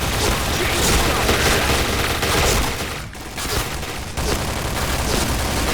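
Gunfire in the online shooter Point Blank crackles as dense, continuous volleys of rapid shots with booms layered throughout, dipping briefly in the middle before resuming at full intensity.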